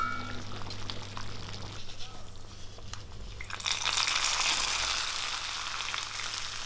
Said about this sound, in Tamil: இப்போ நம்ம தாளிப்பை சாம்பாரில் சேர்த்துட வேண்டியதான்.